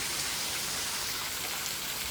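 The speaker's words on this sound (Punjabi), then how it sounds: "ਅੱਜ ਚੰਗਾ ਮੀਂਹ ਪਈ ਜਾਂਦਾ" Steady rain pours down in a dense, even hiss, with no pauses and no other sounds.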